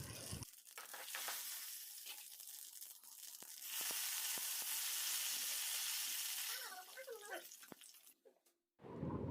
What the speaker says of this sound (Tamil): கடுகு பொரிஞ்சதும் தேவையான அளவு வெந்தயம் போட்டுக்கோங்க. கூடவே 2 காஞ்ச மிளகா போட்டுக்கோங்க. 2 கருவேப்பிலை போட்டு நல்லா தாளிப்பு வந்ததும்